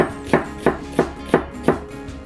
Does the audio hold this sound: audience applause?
no